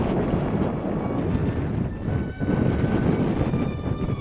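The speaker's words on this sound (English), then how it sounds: "Boy, that wind is starting to get up." Strong prairie wind in a Saskatchewan village buffets the microphone, a loud continuous rushing roar with gusty surges and a brief lull midway.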